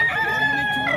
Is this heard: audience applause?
no